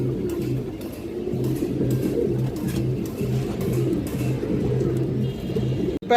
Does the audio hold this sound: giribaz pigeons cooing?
yes